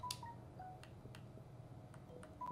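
A phone in a room gives off a faint series of short electronic beeps and tones at irregular intervals, low in level over a steady background hum.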